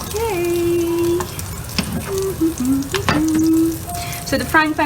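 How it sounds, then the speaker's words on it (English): Red kidney bean kebab shallow frying in a hot pan, a steady close sizzle running throughout, with a voice humming or speaking faintly over it and a few brief clinks. "So the frying pan was quite hot."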